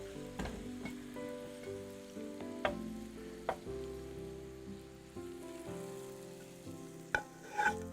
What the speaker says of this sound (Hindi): और फिर ये पूरा ऑयल और ये प्याज जो है हम दाल में डालेंगे।